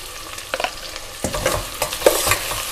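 Onions fry in a pan with a soft continuous sizzle, punctuated by several scraping, clattering stirs of a spoon or spatula at an uneven pace.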